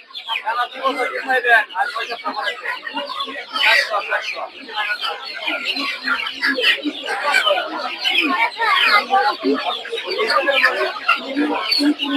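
Chickens at a busy poultry market clucking and squawking in quick, overlapping bursts, with people talking among the birds throughout.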